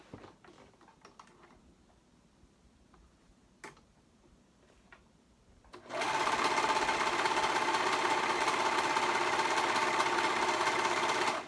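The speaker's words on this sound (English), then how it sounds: "So I'm going to sew both of them together." A sewing machine stitches around the outer edge of a hoodie hood. The room is quiet with a few faint ticks, then the motor starts about halfway through and runs as a steady, loud, close whir until the end.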